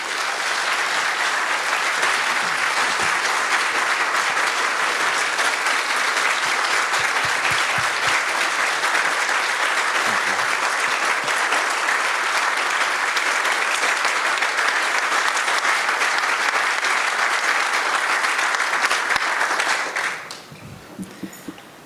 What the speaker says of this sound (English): please give Dr. Youssef a round of applause